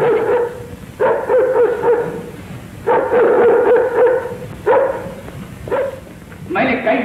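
A dog barks in a 1951 Hindi film, with a series of loud, close barks and whining yelps arriving in separate bursts over several seconds.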